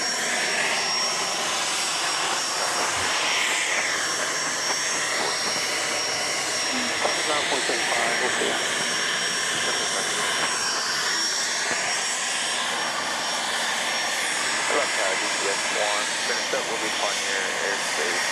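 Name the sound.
single-engine jet being tested at Dallas Love Field airport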